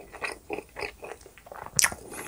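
Close crunchy bites and chewing of Domino's Meat Meat Meat pizza in a real-sound mukbang, a steady run of wet chews with one sharp crisp crunch near the end, no talking.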